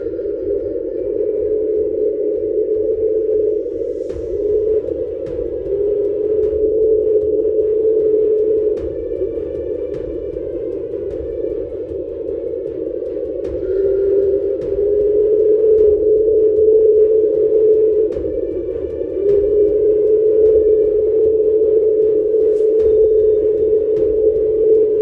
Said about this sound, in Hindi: इस आवाज़ की वजह बड़े आइसबर्ग की रगड़ है।